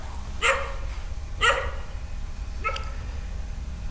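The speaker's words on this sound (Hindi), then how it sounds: "कुत्ता क्यों भौंकने लगा है, रिकॉर्डिंग में आ जाएगा।" A dog barks three times at roughly one-second intervals, sharp and moderately loud, the last bark fainter, over a low steady background hum.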